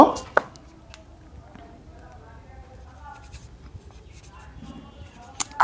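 A pen or pencil scratches quietly across paper, writing out a math formula in short, faint strokes, with a couple of sharp taps at the beginning and end.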